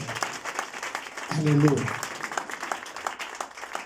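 A church congregation clapping hands in broad, irregular applause that swells briefly in the middle, with a preacher's voice and a sung exclamation heard over it.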